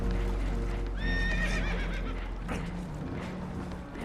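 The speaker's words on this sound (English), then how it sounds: "Horses are spooked" Spooked horses whinny shrilly in Red Dead Redemption II, a sharp rising-and-falling neigh standing out over a low rumbling background of wind and water, fading to a steady drone afterward.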